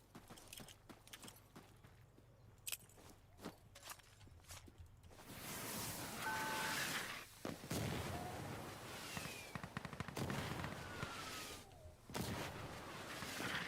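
Mortar fire in the video game Insurgency: Sandstorm: a run of sharp distant thuds and cracks early on, then a long loud rumbling barrage with further booms rolling through the second half.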